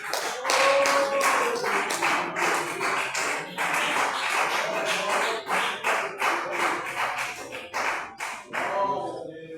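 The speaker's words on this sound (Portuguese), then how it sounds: "as palmas bem fortes ao Senhor Jesus." Church congregation clapping loudly in rhythmic bursts at a worship service, dense and close, with voices faintly underneath.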